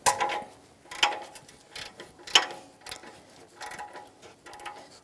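A ratchet fitted with an O2 sensor socket loosening the upstream oxygen sensor on a 2013-2018 Toyota RAV4 2.5L, giving a few close, sharp clicking bursts separated by short pauses, with no voices.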